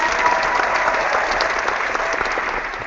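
Canned applause from a soundboard, a steady loud wash of clapping and crowd noise holding evenly for a few seconds with no voices over it.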